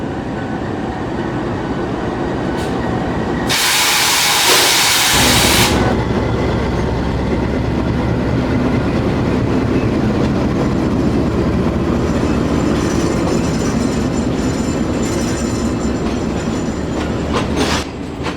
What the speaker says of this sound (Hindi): टावर और कोयटा के दरमियान चलने वाली 40 डाउन जाफर एक्सप्रेस निकल रही है जी मुल्तान कैंट रेलवे स्टेशन से